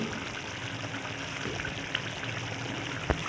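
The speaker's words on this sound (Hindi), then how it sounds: "और अभी इस वक्त मैं इसमें डालूँगी दही" Half a cup of thinned yogurt pours into a chicken karahi in a home kitchen, making a steady soft, watery rush with no one talking and a couple of small clicks partway through.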